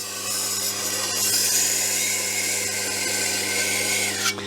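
A knife edge ground on a powered sharpening wheel: a steady, continuous whirring grind with a bright abrasive hiss that holds evenly the whole time, close and fairly loud, with no voices.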